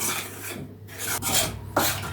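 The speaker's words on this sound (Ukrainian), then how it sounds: "Ось, вимішуємо сухі складники." Dry cake ingredients, flour and cocoa, are stirred in a bowl, making short raspy scraping strokes, close and fairly quiet with no voices.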